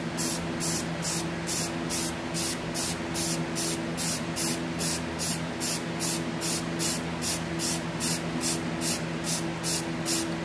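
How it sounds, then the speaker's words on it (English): Spray paint hisses from an aerosol can into the grooves of a small workbench, a continuous, close, steady spray with a faint rhythmic pulsing over a low background hum and no voices. "we're going to spray in and let the spray paint"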